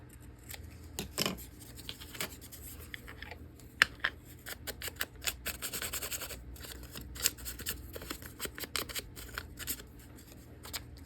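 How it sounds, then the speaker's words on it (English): Scissors trimming thick, cottony paper up close: a long run of crisp snips, some quick and clustered, others spaced, with faint rustling of the sheet between cuts. "I want it to go this way, so I'm just going to trim it wherever it's not right."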